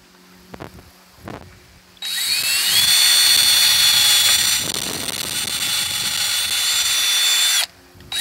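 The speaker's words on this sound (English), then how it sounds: "we are going to be drilling in here and just making our marks" A power drill with a 9/64-inch bit bores pilot holes during a pontoon anchor install. It runs as one sustained, loud, close whine for about five seconds, then stops, with a few soft knocks before it starts.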